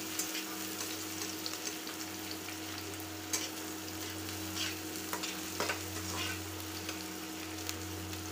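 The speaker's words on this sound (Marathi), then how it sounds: "फ्राय करून घ्यायचं आहे।" Chopped onion fries in a pan with a soft, even sizzle, while a utensil taps and scrapes now and then during stirring and a low steady hum runs underneath.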